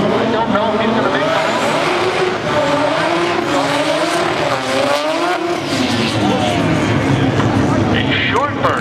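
An import drag car at Englishtown does a short burnout: a loud, close engine roar with wavering pitch and screeching tires, while an announcer talks over the noise.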